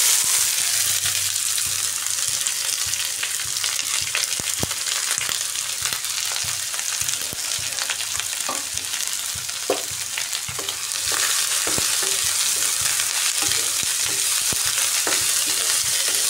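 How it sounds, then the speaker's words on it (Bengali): A large batch of chopped onions sizzles and fries in a pan for a dry chicken dish, with a steady loud crackle throughout and occasional scraping knocks as the onions are stirred. "এবার কুচিয়ে রাখা পেঁয়াজ দিয়ে দিচ্ছি।"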